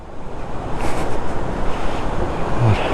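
Nepal's Koshi Barrage gate releases river water that rushes through in a loud, continuous roar, blended with steady wind buffeting the microphone.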